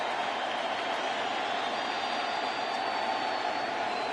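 A baseball crowd at an ALCS playoff game between the Red Sox and Astros roars steadily, a dense, sustained wash of stadium cheering that holds at an even level from start to finish.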